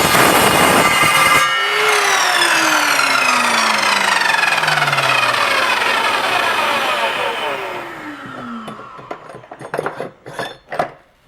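A loud, sustained metallic screech with shrill ringing tones as an Evolution Power Tools R210SMS miter saw bites through a round metal tube, then spinning down into scattered clatters and knocks.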